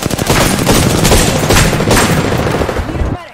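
In the video game Apex Legends, an airstrike sets off a dense, loud barrage of explosions and rapid blasts close by. It keeps up for about three seconds, then stops abruptly.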